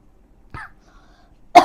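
Two short coughs, a faint one and then a sharper, louder one a second later, set against near silence.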